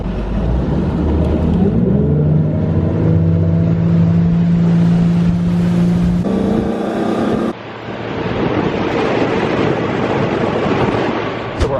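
A boat motor runs at a low, steady idle with a droning hum, shifting pitch partway through and joined by rushing water and wind.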